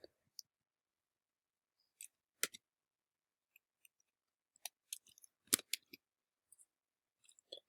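Someone types an answer into MathXL on a computer keyboard, making sparse, irregular clicks that are close but quiet, with long silent gaps and no speech.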